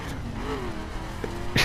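Ford Mustang GT with dirt spec tuning in The Crew racing game, its engine droning and revving with a rising pitch and a sharp burst near the end, loud and close.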